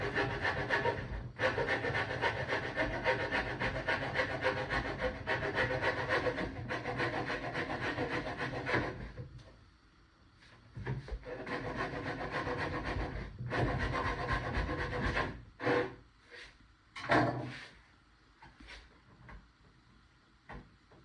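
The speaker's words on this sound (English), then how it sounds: "I'm going to take just a hacksaw blade, real thin hacksaw blade. I can get in there and actually cut those dowels off." A thin hacksaw blade cutting through wooden dowels on a dresser being rebuilt makes a close, continuous rasping stroke sound, with a brief pause and then shorter irregular bursts toward the end, and no talk.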